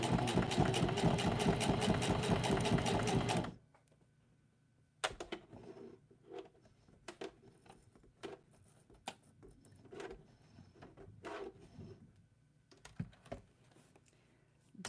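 A sewing machine runs a steady, loud whir while stitching a zigzag, then stops. Quiet scattered clicks and taps follow, with no talking.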